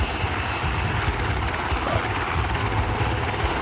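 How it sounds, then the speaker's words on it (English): A helicopter in a military video game makes a loud, steady rotor thump and low engine drone close by, unbroken throughout with no talk. "let's just get in the chopper before things get too bad"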